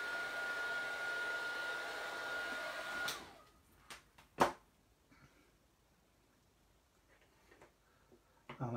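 A handheld heat or hair dryer blows a steady, loud whoosh across a freshly stamped card for about three seconds and then cuts off, followed by quiet taps and clicks of crafting tools.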